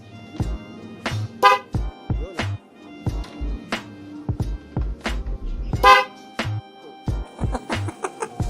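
A Honda Wave motorcycle horn, battery-operated with a switch, gives a string of short, uneven honks and toots, loud and close, with clicks and pauses between them and no talking.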